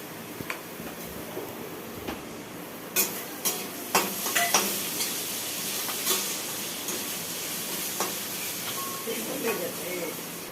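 Vegetable bhujia fries in a pan with a soft, steady sizzle and hiss, broken by several sharp utensil clinks and stirs partway through.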